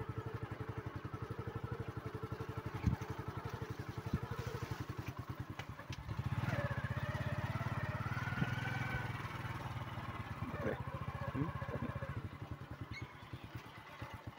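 Motorbike engine while riding along a village road, a steady close putter of regular firing pulses that swells louder in the middle and settles again, with no speech over it.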